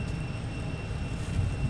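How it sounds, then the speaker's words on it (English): Frontier airliner jet taking off from runway 22 right at Logan Airport, a steady broadband engine roar with a faint high whine, heard from some distance. "Oh, we got Frontier taking off."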